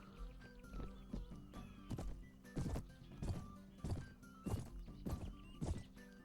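A horse moves over steep terrain in Mount and Blade: Warband (Prophesy of Pendor mod), its hooves striking in a steady irregular clip-clop of about a dozen thuds, fairly faint beneath a low background drone.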